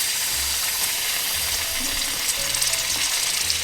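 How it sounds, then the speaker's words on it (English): Large meaty lamb neck pieces browning in hot ghee for an Indian fruity curry, giving a steady close sizzle and crackle with faint scraping of the pan, no voices. "so we've got our ghee eaten up, so we're just going to brown up our meat now."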